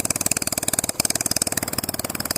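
A vehicle engine idles with its exhaust missing, giving a loud, rapid and very even pulsing chug that runs steadily and close up with no voices.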